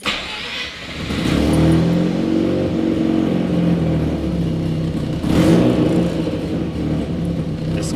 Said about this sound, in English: Now I'm gonna start up the car, make sure everything runs good.